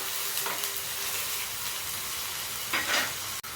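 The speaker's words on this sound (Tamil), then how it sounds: "இந்த வெங்காயம் கொஞ்சம் வதங்கின உடனே அதுக்கடுத்து நம்ம எடுத்து வச்சுருந்து இஞ்சி பூண்டையும் சேர்த்து வதக்கலாம்" Onion and garlic sauté in a pan with a soft, even sizzle close by, lightly punctuated by a couple of brief stirring scrapes.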